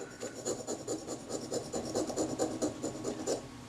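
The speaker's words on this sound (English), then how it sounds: "just peeling the loose stuff off with the back of the scalpel blade or the tip of the screwdriver" A scalpel blade scraping and peeling loose residue off a part of a 35mm film camera during restoration, giving a steady run of close, rasping strokes in quick rhythm without pause.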